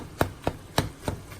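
Browning ground meat being chopped in a pan with a utensil: four sharp, evenly spaced knocks against the pan, close and clear, with no talking.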